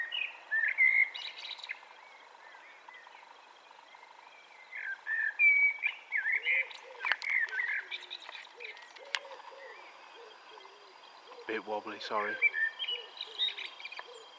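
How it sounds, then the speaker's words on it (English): A blackbird sings over an allotment with big ash trees nearby: clear fluting phrases come in bursts with short pauses, fairly near, and someone speaks briefly. "Just couldn't resist filming the blackbird."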